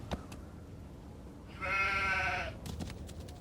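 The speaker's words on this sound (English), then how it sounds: "Is that a sheep?" A sheep bleats in the video game Nancy Drew: The Haunting of Castle Malloy, one clear, fairly loud wavering bleat lasting about a second over quiet background clicks.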